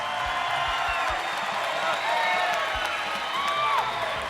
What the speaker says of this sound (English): nice round of applause for Regivaldo Carvalho.